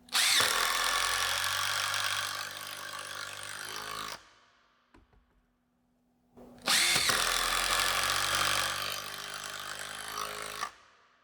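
An entry-level Dewalt or Makita impact driver rattles loudly up close in two long bursts of about four seconds each, separated by a short quiet pause.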